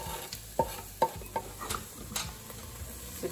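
Chopped onion is stirred into a crock pot, with a spoon scraping and knocking softly against the pot in a few irregular strokes under a faint background hiss.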